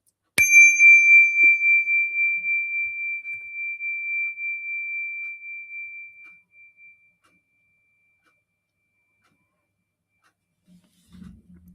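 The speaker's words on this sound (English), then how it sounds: "when you detect the vibration of my bell" A single meditation bell is struck once, ringing with a clear, pure sustained tone that slowly fades over about six seconds, followed by near silence and a faint soft rustle at the end.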